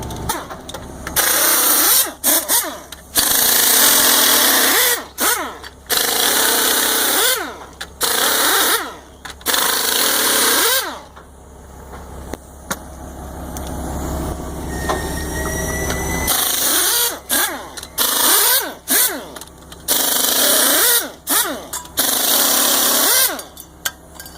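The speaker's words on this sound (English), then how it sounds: "and then we can break the lug nuts loose" A pneumatic impact gun breaks loose the wheel lug nuts on a scrapyard car, firing loud, rattling bursts again and again with short pauses between them, plus a longer stretch of steady mechanical hum in the middle.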